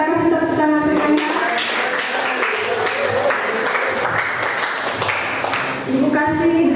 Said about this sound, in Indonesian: Kita kasih tepuk tangan semuanya.